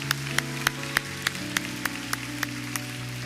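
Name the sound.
congregation applause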